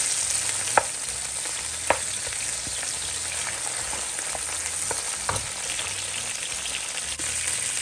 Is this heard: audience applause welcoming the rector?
no